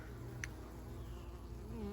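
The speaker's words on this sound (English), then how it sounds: "There's a lot of bees coming in right now" Steady, low buzzing of many bees at a hive entrance close by, a faint continuous drone with a brief sharper tone early on.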